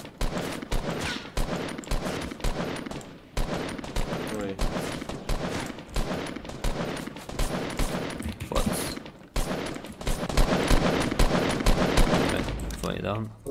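Rapid bursts of gunfire from the video game Fortnite, dense and loud with short pauses between volleys, continuing throughout alongside a voice.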